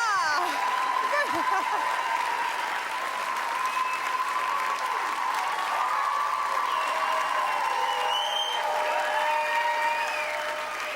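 Studio audience at a Quebec reality-TV gala for Loft Story 2 claps in a loud, sustained burst of applause with a few whistles and cheers, filling the whole stretch at a steady level with voices mixed underneath.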